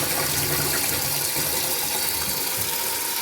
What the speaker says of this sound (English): Okay, flushing as normal.